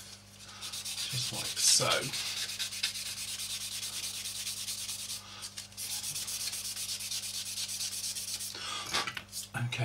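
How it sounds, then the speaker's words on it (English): Sanding on an Eduard B-24 plastic model kit: steady close scraping strokes run almost throughout, with a brief soft word partway through. "So if we just sand the rest of this back"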